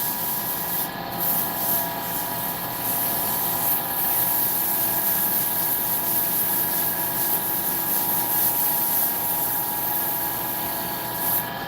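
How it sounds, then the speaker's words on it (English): Sandpaper scrubs steadily across both sides of a yo-yo, a continuous, close, even rubbing hiss with slight rhythmic swells and no pauses. "Bust out the old sandpaper real quick. Give this thing a once over on both sides."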